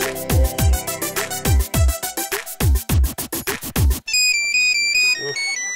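A mobile phone rings with a loud, close melodic ringtone: a run of plucked, tuned notes, then a brighter electronic chime phrase, lasting about six seconds with no talking over it.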